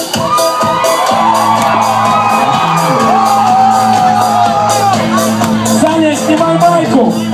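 Loud show audience at an air band performance erupting into cheering, whoops and shouts with applause, a dense sustained roar of many voices close up.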